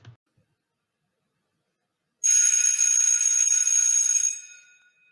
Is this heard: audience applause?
no